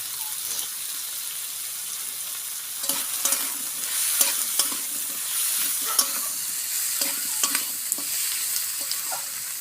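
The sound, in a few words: potatoes and onion frying with turmeric in a pan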